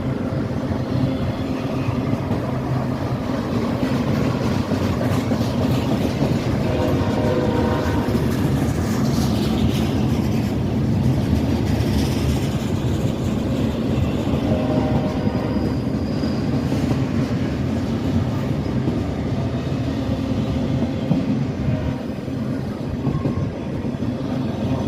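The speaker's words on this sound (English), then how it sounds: "California train." A California train rolls past the Fort Madison depot with a loud, continuous roar and the rumble of rail cars clattering on the tracks, close by and steady throughout, with no voices.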